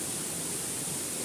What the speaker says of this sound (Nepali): यहाँ झर्ना हेर्नु त एकछिन